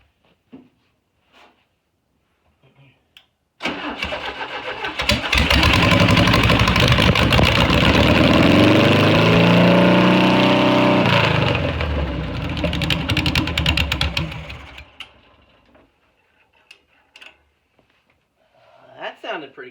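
A VW Bug engine that had not been running right cranks and catches, then idles loudly and revs up and down in a rising and falling sweep before cutting off, with quiet talk before and after.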